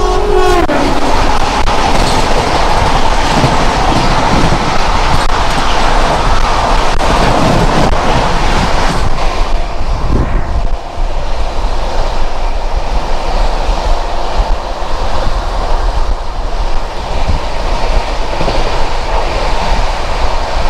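The Gitanjali Howrah–Mumbai express passes close by, near Jhargram station, with a brief horn blast at the start and then a loud, continuous rumble and rhythmic clatter of wagons rolling past, without talk.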